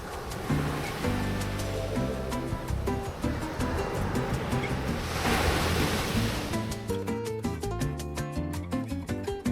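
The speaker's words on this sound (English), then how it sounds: "enjoying the sound of the crashing waves" Waves crash onto a beach at Malaga, Spain, a continuous loud surging roar with a deep, rolling rush and some wind buffeting the microphone, no voices.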